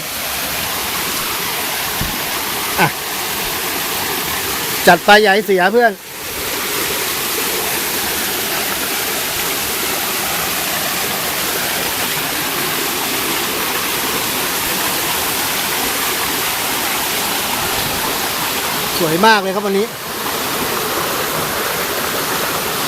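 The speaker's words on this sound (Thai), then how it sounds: "วันนี้น้ำตกมันมีน้ำก็เลยสวยมากเลยอ่ะ" A waterfall running full on a day of high water gives a steady, loud, broadband rush that lasts throughout. Voices speak briefly twice over the roar.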